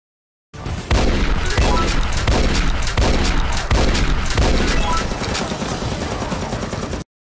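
Rapid, sustained gunfire from a vehicle in a parking lot, a loud dense volley of overlapping shots rattling continuously for about six seconds with no talk.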